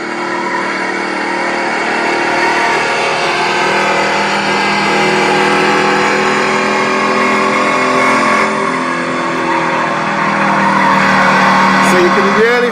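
Racing-game car engine and tire noise panned around a surround mix, steered by a force feedback steering wheel controller; a steady, loud, continuous engine drone with skidding texture and a rising whine near the end, no talking.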